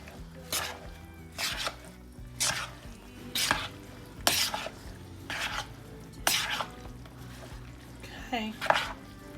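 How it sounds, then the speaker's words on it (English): A spoon stirs casserole ingredients with about a cup of shredded cheddar in a bowl, making a series of regular scraping, clinking strokes roughly every second, close and moderately loud, with light voice sounds in the background. "I'm going to stir that up."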